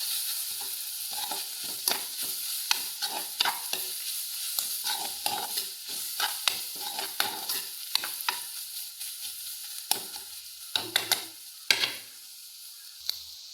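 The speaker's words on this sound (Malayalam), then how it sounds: "കുറച്ച് കറിവേപ്പില ഇട്ട് കൊടുക്കുക" Curry leaves crackle and sizzle in hot oil for carrot thoran, a dense steady frying hiss broken by sharp pops and spatters, with stirring scrapes throughout and no voices.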